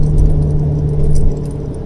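Rattling and clattering inside a Swift Besser car on the move, a steady jingling rattle over low engine and road rumble throughout, loud and close with no talking.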